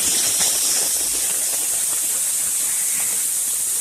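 Kerala-style masala-coated prawns fry in a pan, giving a loud, steady, close sizzling hiss throughout.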